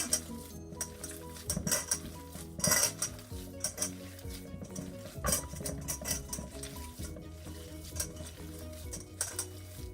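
Hands squish, squeeze and fold a meatball mixture of meat and bread, giving close, wet squelching and clicks in irregular bursts, with occasional clinks of a bowl; no talking.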